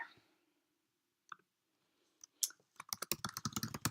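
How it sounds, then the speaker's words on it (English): Keys clack on a computer keyboard in a quiet room, a few isolated taps giving way to a fast, steady run of typing. "At that point, I can start typing."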